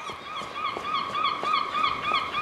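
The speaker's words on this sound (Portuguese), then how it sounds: "Gaivota pra lá e pra cá" Seagulls in the game Broken Pieces: repeated nasal, honking calls in a steady rhythm, several cries overlapping at moderate distance over a faint background, with no talking.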